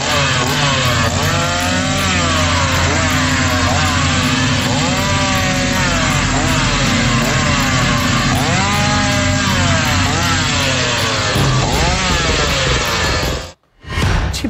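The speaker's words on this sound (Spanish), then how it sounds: "pasándole la motosierra a la gente" A chainsaw runs loud and close for about thirteen seconds, its engine revving up and down in waves, then cuts out abruptly before picking up again at the end; a street-demonstration prop carried by a political impersonator.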